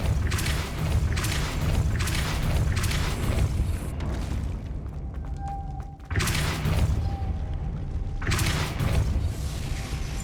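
Spell impacts from the Depulso force charm in Hogwarts Legacy, a series of loud, broad bursts repeating every couple of seconds over steady game ambience, with brief quieter gaps between hits.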